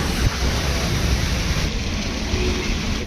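Steady, dense hiss of rain falling without pause, close and fairly loud, with no voices.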